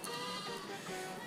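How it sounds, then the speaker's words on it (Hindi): A goat nearby gives a loud, drawn-out, wavering bleat that fills the whole moment, with no talking over it. "यहाँ पे थोड़ा बकरी बोल रहा है गाइस"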